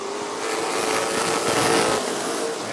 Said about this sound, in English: Here they come. Green flag, and we're racing.